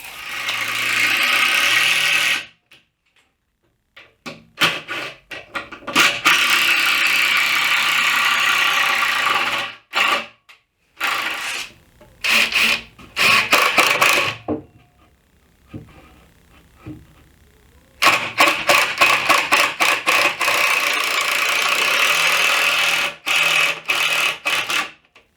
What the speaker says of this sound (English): So we're going to cut two 2x6s at 64 3/4.